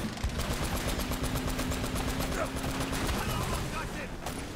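Jeep-mounted gun firing in Uncharted: Drake's Fortune, a steady stream of rapid automatic shots with a low engine hum beneath, continuous and fairly loud throughout.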